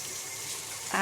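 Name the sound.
rinsing hands under running tap water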